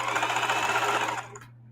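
A sewing machine stitches old jeans into a tote at presser-foot width, a steady close mechanical hum and rapid needle chatter that runs continuously, then slows and stops near the end.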